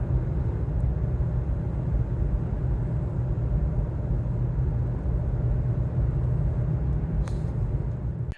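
Road and wind noise inside a moving Toyota Tacoma with a Hooke Road roof rack, a continuous loud low rumble and hiss with a faint click near the end.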